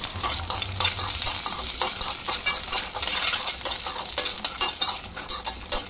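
One cup of peanuts in a spoonful of oil is stirred in a pan over a low flame, with a steady close sizzle and the scrape of a spoon running throughout.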